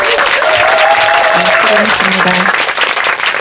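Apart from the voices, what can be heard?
audience applause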